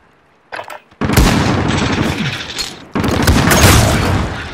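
Loud, sustained rifle fire in the Call of Duty: Modern Warfare video game erupts in two long, dense volleys of rapid shots and booms after a brief quiet start.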